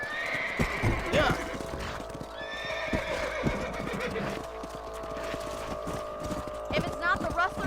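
Horse whinnies and hoof clip-clops on a ranch in Red Dead Redemption, the neighs rising sharply over rhythmic hoofbeats, with speech and game ambience mixed in.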